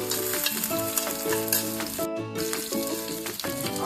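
Chopped onion and ginger sizzle and crackle in a pan for an Indo-Chinese mushroom chilli, with continuous frying and stirring noise, close and lively, beneath background music.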